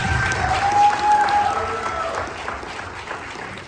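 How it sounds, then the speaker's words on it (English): Audience applause for a guest speaker at a Boston film Q&A event, broad steady clapping filling the room without talk. "Round of applause, please, for Darrus."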